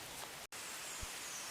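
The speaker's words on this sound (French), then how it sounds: "la pluie vient de s'intensifier" Steady hiss of heavy rain pouring down around a riverside fishing spot near a bridge, an even broadband wash with a brief dropout partway through.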